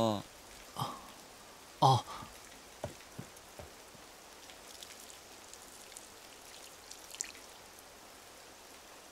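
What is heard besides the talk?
rain falling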